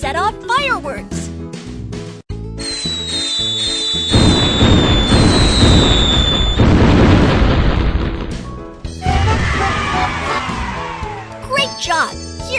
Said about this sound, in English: Let's set off fireworks.